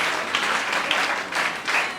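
Audience applause at a foundation charity event, steady dense clapping that carries evenly through the whole stretch, fairly loud and with no voices over it.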